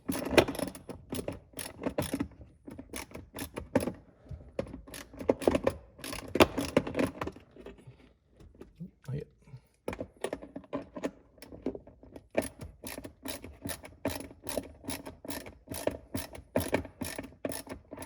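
An 8mm bolt being removed inside a Jeep gives repeated close metallic clicks, ratchet-like ticks and small rattles, with a short quieter pause midway before the clicking resumes.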